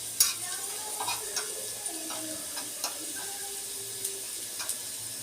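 Food sizzles gently in a pan while being stirred at home, with soft scraping and small ticking clicks over a steady frying hiss; cumin and tomato paste go in as it browns lightly.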